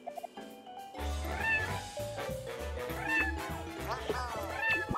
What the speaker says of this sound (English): Makes a fucking cat noise.